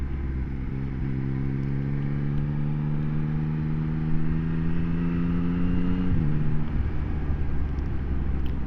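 A 2024 Yamaha XSR900 engine hums under riding, its tone climbing steadily through a gear before dropping sharply at a clutch gear change, then settling again, with constant wind noise throughout.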